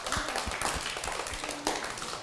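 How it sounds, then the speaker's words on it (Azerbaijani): An audience at a talent festival stage show in Azerbaijan applauds grandmothers and grandfathers, a dense, steady wash of many hands clapping with a few sharper claps standing out. "Bütün nənələri, babaları alqışlayaq."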